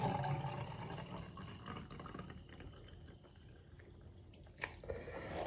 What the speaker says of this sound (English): Let's pour it in.